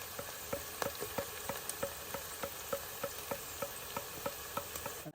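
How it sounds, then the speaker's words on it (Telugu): Onions fry toward golden brown in a pan for a tomato and drumstick rasam, giving a faint, steady sizzle with a quick, regular ticking running through it. "ఉల్లిపాయలు వేగుతున్నాయండి బాగా చూడండి కొంచెం ఇలా గోల్డెన్ బ్రౌన్ వచ్చా"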